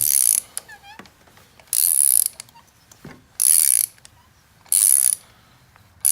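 A ratchet loosens a spark plug on a 2004 Saab 9-3 in four loud, buzzing runs of rapid clicks, each lasting about half a second, with quiet gaps and faint handling noises between them.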